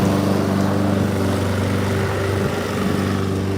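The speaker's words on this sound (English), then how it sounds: "there's a guy here mowing the lawn" A lawn mower mows a lawn outside, a steady droning engine hum that holds at an even level from start to finish, with no talk over it.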